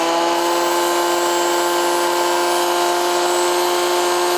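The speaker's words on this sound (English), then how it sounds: "to sharpen the tungsten tip, I'm always using a dedicated grinder for that" A dedicated bench grinder sharpens a tungsten welding electrode tip, producing a loud, continuous whine with a steady tonal hum that holds unbroken for several seconds before cutting off abruptly, with no talking.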